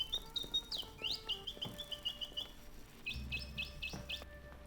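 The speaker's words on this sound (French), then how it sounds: "Oiseau mécanique." Mechanical bird chirping in the psychological horror video game AD Infinitum, with bright repeated metallic tweets in quick bursts, a pause, then a further run of chirps over a low hum.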